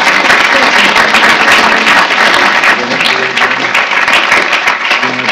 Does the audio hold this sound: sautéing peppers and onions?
no